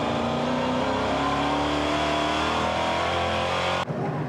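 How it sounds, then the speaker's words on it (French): Race cars in a Sunday race at the Nürburgring scream past at high revs, a loud sustained engine roar close by that cuts off abruptly near the end. "Gandon qui tente de dépasser Roca, mais il se rate."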